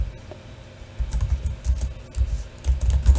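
Keys clatter on a computer keyboard in quick, uneven bursts of typing, close and clear, after a brief quiet start.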